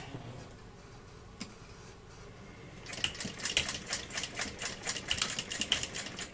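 A sewing machine stitches a bag seam right up against metal bag hardware, opening with quiet handling before a fast, close, steady run of clattering stitches that carries to the end.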